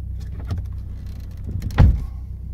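A Volvo car door opens with a low mechanical clunk and latch thump near the end, preceded by faint clicks and a quiet interior hum, close and fairly loud.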